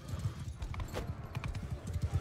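Horse hooves clip-clop steadily in the video game Mount and Blade II Bannerlord, with a fast, rhythmic gallop running throughout the clip.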